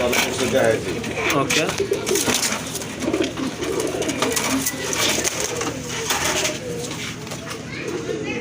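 Pigeons cooing in a loft of quality breeding birds, repeated soft throaty coos layered under someone talking, with occasional wing flutters and rustling throughout.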